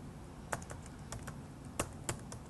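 Typing on a computer keyboard: a quiet, irregular run of close keystrokes with a few sharper taps standing out. No one speaks.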